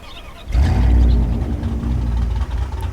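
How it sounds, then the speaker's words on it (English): An offroad truck engine in the video game SnowRunner cranks and catches at about half a second, then settles into a loud, steady, low rumbling idle with slight fluctuations. "we're ready for a clean startup. Here we go. Start engine in 3, 2, 1."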